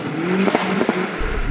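A 38-year-old Ford Fiesta Mk1 Supersport drives off, its small engine revving and pulling up through the gears, with brief crackles and clatter over a steady road rumble.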